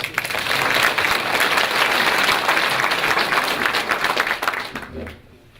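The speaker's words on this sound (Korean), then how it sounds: "큰 박수 한번 부탁드리겠습니다" Applause from an audience at a public meeting with a provincial governor, loud dense clapping holding steady for several seconds before fading out near the end.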